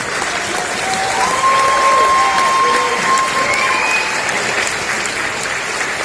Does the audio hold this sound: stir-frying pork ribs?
no